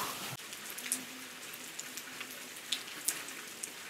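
Rain falls on a mountain trail between Lauterbrunnen and Mürren, a soft continuous patter with scattered louder drips and taps close by, steady throughout with no talking.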